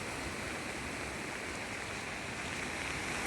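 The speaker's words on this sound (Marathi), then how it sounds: "बघा किती पूर आलाय ओढ्याला" Loud, constant roar of a stream in flood after heavy rain, a dense unbroken torrent close by with no pauses.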